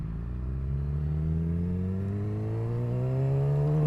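A Suzuki GSXR600 motorcycle with an untuned aftermarket exhaust on the highway, its engine note rising steadily as it accelerates, a loud, close, continuous drone with no talking.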